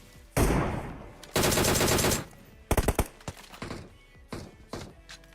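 Bursts of automatic gunfire in the mobile game PUBG Mobile: two long loud sprays followed by a cluster of sharp single shots and scattered thuds, fairly close and without talk.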